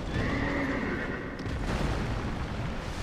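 A horse in a dark fantasy video game neighs once in a drawn-out whinny over a low, rumbling background, standing alone without any talk.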